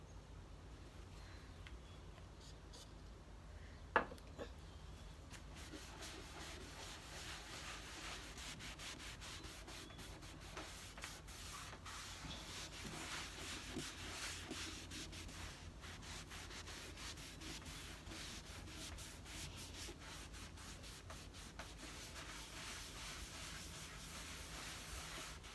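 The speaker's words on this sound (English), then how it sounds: "And just rub it in." A finish coat is rubbed into wood by hand, giving a steady, close, continuous hiss of rubbing with no talk.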